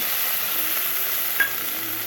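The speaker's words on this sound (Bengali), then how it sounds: "পেঁয়াজ আর রসুন দিয়েছি, পেঁয়াজ রসুন লাল হয়ে গেছে।" Onion and garlic fry in a pan, a steady broad hiss of sizzling oil filling the whole stretch, with one brief clink of a utensil partway through; no one speaks.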